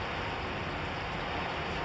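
Very fine mist of tiny raindrops falls in Seattle as a faint, steady, even hiss lasting a couple of seconds, with no voices.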